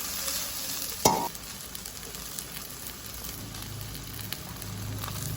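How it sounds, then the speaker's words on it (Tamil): Vegetables and leeks sautéing in a pan for vegetable noodles, a steady low sizzle with light stirring and a brief sharp clatter near the start, close and fairly quiet, with no one speaking. "லீக்ஸ் டப்பல் பொரிஞ்சிருமன்றதால கடைசியாக போடுவோம். எல்லாத்தையும் வதக்குவோம்."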